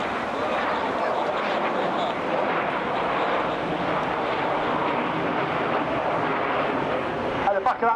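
RAF Red Arrows jets at the Blackpool Air Show roar overhead in a loud, continuous broadband rush that holds steady throughout, with a brief crackle near the end.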